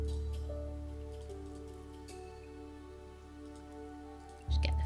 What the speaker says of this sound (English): Nice bit of rain, that's good.